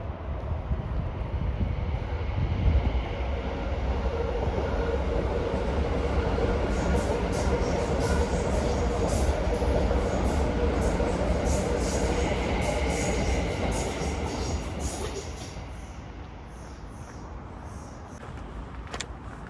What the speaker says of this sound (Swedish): Kom tunnelbana.